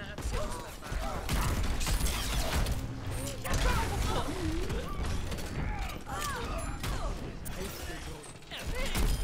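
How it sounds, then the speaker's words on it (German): Junkrat's explosives in Overwatch go off in rapid, repeated blasts, with clanking, crashing game effects around them, while a player talks over the action throughout. "Mit ganz viel Explosionen."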